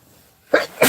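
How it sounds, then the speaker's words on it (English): A person sneezes sharply twice in quick succession, close and loud, after a brief quiet moment. "I had to sneeze there"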